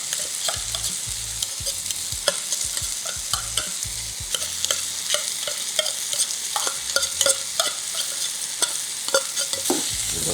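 Drained canned tuna being stirred in a frying pan, a quiet sizzle under frequent scraping and tapping strokes of a utensil against the pan, irregular and close, with no talking.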